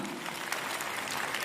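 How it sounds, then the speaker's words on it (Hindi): An audience claps at a women's empowerment event, a dense, steady wash of applause that carries on without a break through the brief moment. "एक बार जोरदार तालियां"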